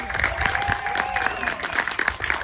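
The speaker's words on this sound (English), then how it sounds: "we're going to applaud right now the Green Barn and everybody that's gone into it" An audience applauds at the reopening of the renovated Sunol visitor center, a brief burst of clapping mixed with a voice and crowd murmur, fairly close and moderately loud.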